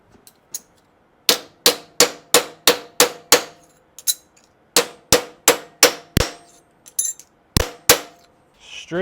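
Sharp metallic hammer blows ring out as a car bumper bracket plate is straightened in a workshop, a loud, close series of single strikes in uneven bursts with short pauses between them, no talking.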